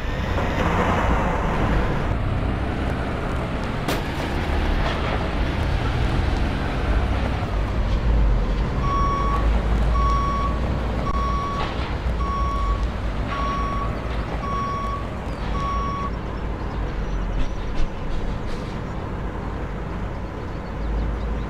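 A tow truck in the Construction Simulator 2012 video game gives off a steady series of evenly spaced reversing beeps over the low rumble of its engine, with no voices.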